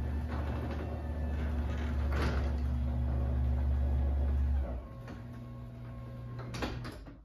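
A LiftMaster 8360 garage door opener lowers the door with a steady motor hum and rumble, then the drive note shifts and softens as the door settles down gently, with faint clicks near the end.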